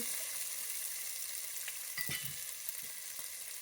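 Corn sautéing in a pan for poha gives a steady, soft sizzle throughout, with a few louder stirring scrapes near the middle; no voices.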